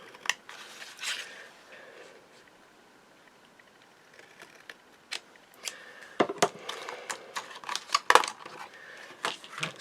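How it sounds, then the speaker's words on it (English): Scissors cut a paper border strip for a handmade card, giving a run of crisp, close snips and rustles. The snips are sparse at first and grow denser and louder toward the end. "Where did my scissors go? In front of me. So I'm just going to cut this border out."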